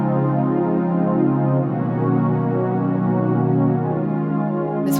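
Sustained piano chords move slowly from one to the next in a steady, full-sounding progression that rings continuously without talk, ending with a brief bright noise.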